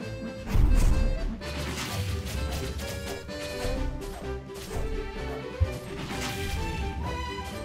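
Sword strikes smack monsters in the game Dungeon Quest, heard as repeated crunchy hits and crashes over a continuous loud game music bed, with one sharp impact near the end.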